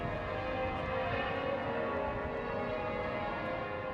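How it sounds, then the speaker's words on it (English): Church bells of Liverpool Cathedral, the world's biggest peal, ringing continuously as a dense, sustained wash of overlapping tones, loud and steady throughout with no voices. "This is the magnificence of Liverpool Cathedral, and I just can't compete over the bells. The world's biggest peal of bells."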